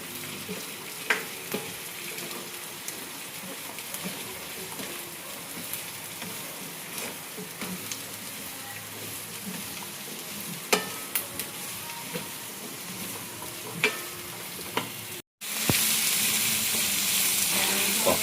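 Carrots sautéing with onion, garlic and ginger in a pan, a steady crackling sizzle with occasional sharp stirring clicks, close and moderately loud, briefly cutting out before the frying noise resumes brighter, no talking.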